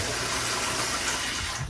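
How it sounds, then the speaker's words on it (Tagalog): Water pours steadily into a basin for hand-washing an apron, a continuous close gushing fill that fades out at the end. "Lagay tayo ng tubig."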